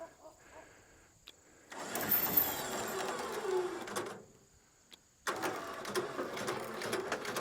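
An electric winch pulls its line in two bursts of whirring, grinding motor noise, close and moderately loud, with a short pause between the runs.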